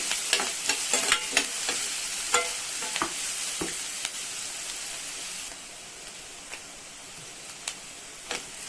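Onions sautéing in a pan make a continuous close sizzle broken by irregular clicks and scrapes of a stirring spoon, which thin out later as the frying settles into a softer hiss, with no speech.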